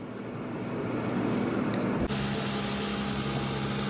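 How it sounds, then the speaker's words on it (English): A liquid propane recirculation pump runs beside a GE LM2500 gas turbine engine, giving a steady mechanical hum with a tonal whine that shifts abruptly to a higher, brighter drone partway through and then holds constant. "that noise you hear is our recirculation pump of liquid propane"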